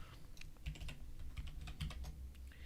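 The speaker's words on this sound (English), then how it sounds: "Okay, I need to type that." Rapid typing on a computer keyboard, with a quick irregular run of close, crisp key clicks and a few heavier keystrokes, alone and without talk.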